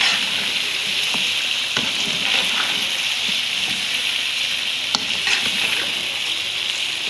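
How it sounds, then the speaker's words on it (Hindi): Spices sizzle and fry with chicken in a pan for a Punjabi-style Chinese chicken and vegetable rice dish, a continuous close crackling hiss broken by occasional stirring scrapes and pops. "अब ये स्पाइसेस को हम थोड़ा सा फ्राई करेंगे चिकन के साथ"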